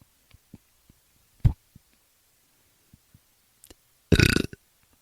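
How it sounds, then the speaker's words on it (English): One short burp, then a longer, louder drawn-out burp near the end, with faint clicks and quiet gaps between them. "You're making weird burp sounds over there."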